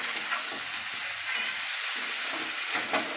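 Potatoes sauté in oil with mutton liver for a Bengali mutton kosha, a steady close sizzle with faint stirring scrapes throughout.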